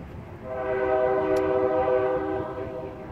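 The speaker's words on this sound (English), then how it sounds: "So that's the trash train in the background." A trash train passes in the background near a cemetery in Barnstable, Massachusetts. It gives a steady, sustained horn tone over a continuous rumble that swells and then fades slightly, with no talk over it.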